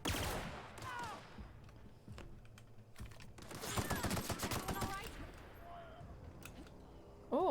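A dense volley of gunfire from a weapon in The Outer Worlds video game rattles through the middle of the clip, amid other scattered game effects, at a fairly low level.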